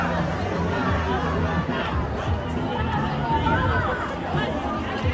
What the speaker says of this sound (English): There is a huge crowd marching through LA.